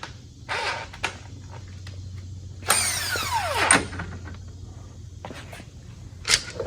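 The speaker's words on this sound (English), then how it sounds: "we're gonna get air tools" Air tool with a chrome socket working on a Harley, heard as a sharp pneumatic burst and a whirring rundown with a falling pitch near the middle, with scattered clanks and a low hum before and after.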